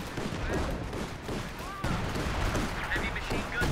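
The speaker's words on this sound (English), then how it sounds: "I think major artillery's just been called near the North VP" Artillery and gunfire rumble through a competitive World War II style war game match, a continuous dense barrage of muffled booms and rattling shots with no clear pauses.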